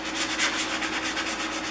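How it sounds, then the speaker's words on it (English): Gentle sanding on an old iron cap to even out its remaining patina, a rhythmic back-and-forth rasping of abrasive on metal repeating steadily at close range, no voices. "do some gentle sanding, trying to even out what patina remains on it"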